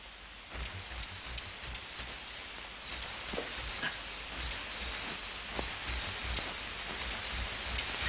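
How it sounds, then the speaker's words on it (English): A cricket chirps in steady bursts of short, bright pulses, repeating roughly every half second with brief pauses between groups, close and clear against a quiet background. "That's not in your head, sir. That's a cricket."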